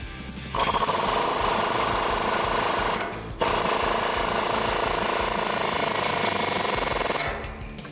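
Rapid mechanical ratcheting or impact-style rattle as a 19mm swivel socket tightens a castle nut on the tie rod end of a Tacoma 4WD front suspension during a lift kit install; loud and steady, with a brief pause near three seconds.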